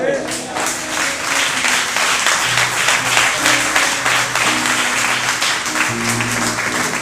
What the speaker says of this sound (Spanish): ¿alguien le puede dar un aplauso?